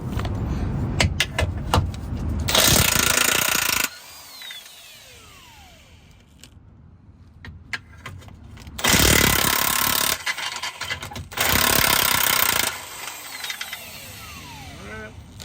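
A power impact tool hammers loose the control arm bolts under a Toyota Camry in loud, dense bursts, three main runs of a few seconds each separated by quieter pauses with light clinks.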